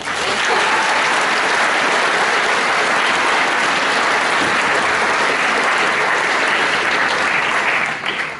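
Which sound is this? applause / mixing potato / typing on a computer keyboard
applause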